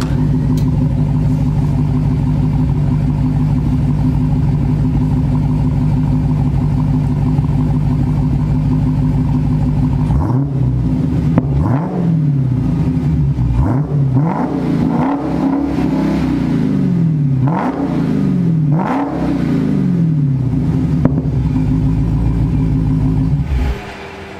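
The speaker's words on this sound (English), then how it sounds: "a little bit of revving for you" A Dodge Hellcat idles with a deep steady rumble, then is revved repeatedly in sharp rising and falling bursts, loud and close, before the engine cuts off at the end.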